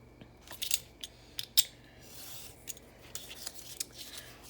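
Scissors trim paper artwork, making a close series of crisp snips and rustles that start as separate sharp cuts and turn into quicker, softer scraping.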